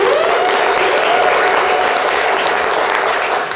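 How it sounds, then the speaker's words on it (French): A studio audience applauds a guest on a midday talk show, a dense, even burst of clapping that holds steady close by for a few seconds and then starts to fade. "C'est la star, merci de l'applaudir."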